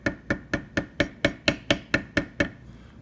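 Steady, evenly spaced hammer taps strike a checkered beveler tool into leather during tooling, about ten sharp close knocks in a regular rhythm that stop near the end.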